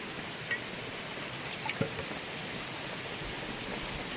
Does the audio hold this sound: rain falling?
yes